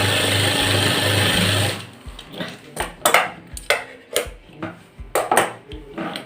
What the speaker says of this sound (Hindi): हम पट्टी की 2 सूत की सिलाई लगाएंगे।